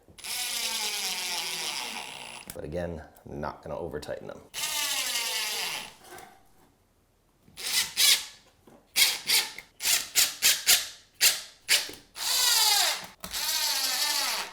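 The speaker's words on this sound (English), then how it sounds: "I am going to use a drill to make this easier." A power drill whirs in repeated bursts, short and long, driving screws while assembling a desk, with someone speaking briefly in a pause between runs.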